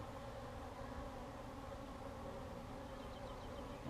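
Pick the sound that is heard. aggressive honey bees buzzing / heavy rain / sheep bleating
aggressive honey bees buzzing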